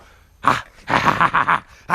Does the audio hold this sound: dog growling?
yes